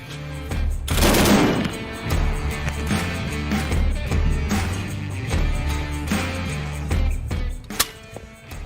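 A Soviet DShK 12.7 mm heavy machine gun fires in rapid bursts outdoors, loud and close, with heavy overlapping booms and echoing reports across the whole stretch.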